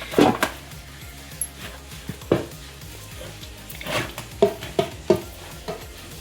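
Cooked lentil flour dough is stirred and mixed in a bowl, giving irregular knocks and thick scraping stirs, close and fairly loud with pauses between strokes.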